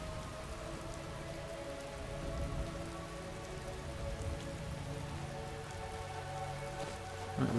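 Steady rain falls on hard surfaces in Skyrim, a soft continuous patter of drops with a faint low rumble underneath, no voices.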